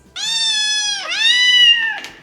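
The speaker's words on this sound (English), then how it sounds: "Little kittens, what is happening over there?" Kittens give a clear, close, high-pitched meow, a long wavering cry that dips and rises again before a short trailing chirp, loud against a quiet background.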